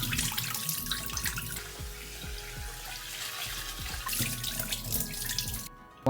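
Tap water runs steadily into a sink while rice is rinsed for Japanese onigiri, a close, continuous splash with small drips and clinks throughout, briefly easing near the end.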